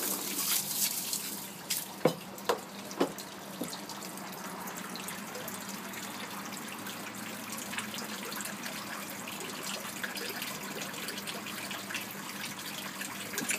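Water trickles softly into an aquaponics grow bed as its auto siphon starts, a faint steady flow with a few sharp drips early on and no talk.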